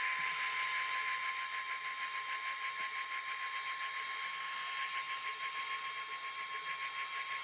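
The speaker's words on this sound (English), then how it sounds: "I'm going to use my heat tool to dry the rest of the paint" Heat tool blowing steadily to dry spray paint on a glitter tumbler, a continuous high whirring hiss with an electric whine, close and constant throughout with no talk.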